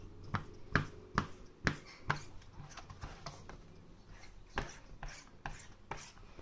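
Silicone sealant being spread and pressed down by hand, giving a string of soft, close rubbing and squelching strokes with sharper clicks at irregular intervals, quiet and with no talking.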